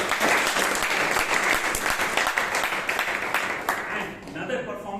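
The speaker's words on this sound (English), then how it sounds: "Please give a big applause." Audience applause at a Toastmasters meeting, a dense steady clapping from the crowd that runs strong for several seconds, then thins and fades toward the end, with some voices mixed in.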